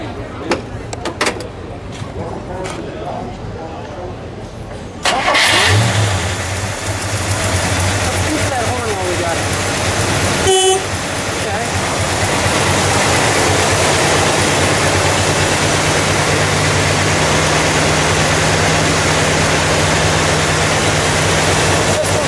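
A 1960 Chrysler 300F's engine cranks, catches and fires up loud and close, then settles into a steady rumbling run with a slight rise in level, with some talk nearby.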